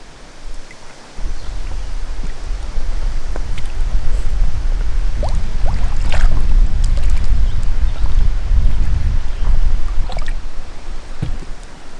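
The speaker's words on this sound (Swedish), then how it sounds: "Så det man gör det är att man tar bara påsen så här, fyller den." A filter bag being filled with water from a lake outdoors, a low gurgling, rushing swirl close by with wind buffeting the microphone and a few small splashes.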